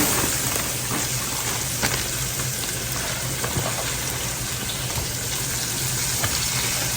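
Peppers and onions sizzle in a hot pan for roast beef, a continuous close crackling hiss with scattered small pops and no talking.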